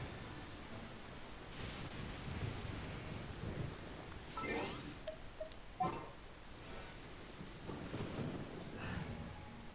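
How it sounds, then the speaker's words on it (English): Rain falls steadily in the Genshin Impact video game while thunder rumbles softly in the distance, with a few brief chimes of game sounds rising over the quiet, even downpour. "So let's take advantage of the rain."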